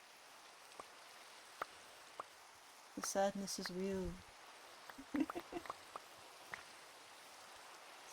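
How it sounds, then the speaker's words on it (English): Minecraft rain, played while Cobblemon is running, hisses softly and steadily in the background. A few brief clicks and taps come over it, and a speaking voice cuts in partway through. "Oh, it started raining."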